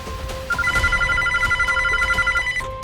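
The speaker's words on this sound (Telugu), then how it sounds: "ఫోన్ చేస్తున్నాడు. ఎత్తరా?" A mobile phone rings with an incoming call in a Telugu short film, a bright repeating electronic melody that pulses in steady bursts for a couple of seconds, close and loud with no talk.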